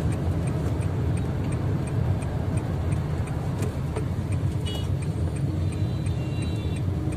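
A car drives along a city avenue with a steady, close engine and road rumble inside the cabin, joined by a regular faint ticking like a turn indicator, without speech.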